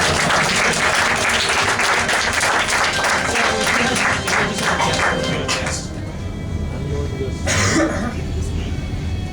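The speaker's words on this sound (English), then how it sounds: "So let's give him a round of applause." Convention audience applauding a contestant at an anime-style Who Wants to Be a Millionaire game show, loud sustained clapping from many hands that thins out, with a few coughs and murmurs near the end.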